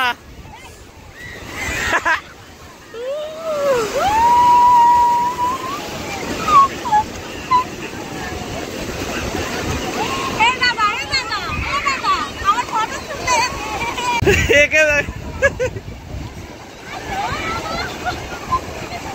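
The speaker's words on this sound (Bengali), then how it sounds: "ওই এলো ঢেউ এলো কত বড় বড়" Large ocean waves wash onto the beach at Puri with a broad surging roar and wind buffeting, while excited voices and shouts carry over the surf.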